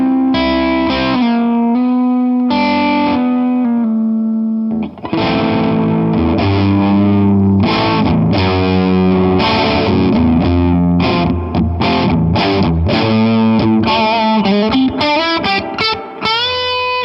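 A Zemaitis GZW500HB electric guitar plays a loud, continuous run of distorted, vintage-toned notes and sustained chords, with a brief dip near the five-second mark and no talking.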